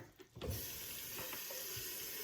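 Tap water pours steadily into a pot, a close, continuous rushing stream that starts abruptly after a brief pause and runs on with no talking.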